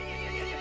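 A horse in the video game Resident Evil Village gives a short, loud, close whinny that fills the moment without other sounds.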